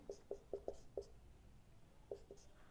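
Marker or pen strokes on a board while a physics lesson on velocity and acceleration is explained: a quick run of five short scratchy taps, a pause, then two more, faint and close.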